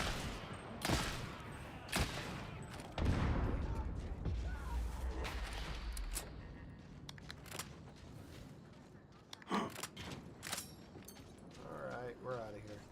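Gunfire in a Warhammer video game: scattered sharp shots and bursts ring out amid heavy rumbling battle noise and mechanical clatter, with voices talking throughout.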